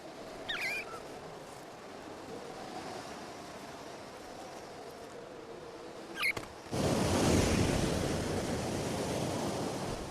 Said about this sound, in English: Down at sea level, the cold fronts bring gale-force winds.